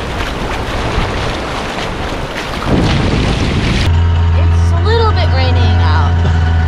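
Heavy rain and gusting wind in Tamarindo, Costa Rica, a dense roaring wash that gives way to a steadier downpour with a low hum underneath, loud and close throughout.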